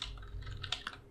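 Short run of typing on a computer keyboard, several quick soft key clicks with a couple of sharper taps near the end, close and alone with a faint low hum underneath.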